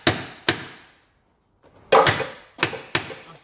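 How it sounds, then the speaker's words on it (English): Sharp metallic hammer-and-chisel strikes on a metal car part of a Giulietta ring out close by, two quick hits, a pause, then three more, each ringing briefly before fading. "you can just give it a hit with the hammer and a bit of a chisel and it should come off"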